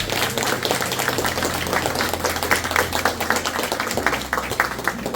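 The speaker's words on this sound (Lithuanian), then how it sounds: "aplodismentai lelijos komandai" Applause from the audience at the opening of the Lelija culture venue in Druskininkai, with dense steady clapping holding for several seconds over a low hum.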